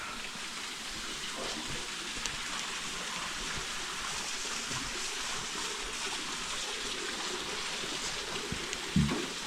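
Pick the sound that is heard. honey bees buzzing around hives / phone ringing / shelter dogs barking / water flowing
water flowing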